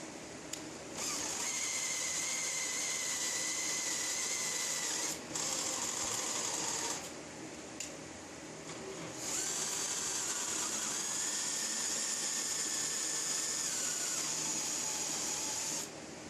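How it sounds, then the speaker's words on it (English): A power drill driving a router table lift whirs steadily for several seconds, pauses briefly, then runs again, its pitch shifting slightly as the load changes, with a mechanical whine. "I had it working with a drill"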